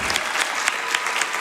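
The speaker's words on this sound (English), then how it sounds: "Can we get a round of applause for all these incredible donations?" A live audience at a Summer Games Done Quick speedrun event applauds steadily, a dense close wash of clapping with no pauses throughout.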